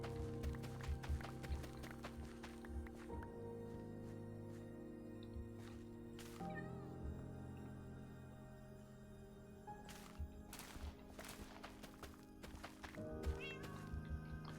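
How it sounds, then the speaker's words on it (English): A cat in the video game Minecraft meows repeatedly in short calls over a steady layer of game music and ambience, the mews standing out clearly at moderate loudness. "Noisy cat."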